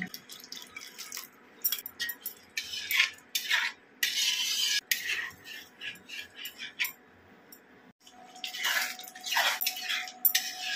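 A yogurt bowl is rinsed and its water poured into a cooking pan, giving running, splashing water and repeated clinks of a bowl handled close by, with a brief break before more pouring.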